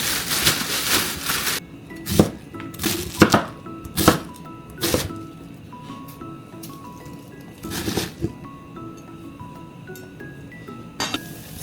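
A knife cutting through cabbage on a board in a home kitchen, heard as a series of sharp, close chopping knocks, irregular and spaced out, with some crisp crunching between strikes.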